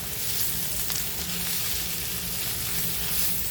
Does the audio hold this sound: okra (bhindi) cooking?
yes